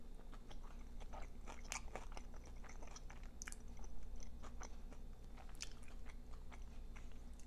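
Crunchy biting and chewing of mac and cheese mixed with pickled green beans, close and continuous over a low steady hum, with repeated crisp bites and no talking.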